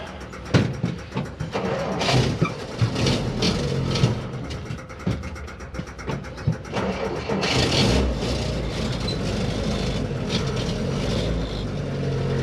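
Engine of an off-road race vehicle at the VORRA El Coyote 400 starting on choke and warming up, with sputtering bursts and uneven revs settling into a rougher steady run amid wind noise, close by, no talking.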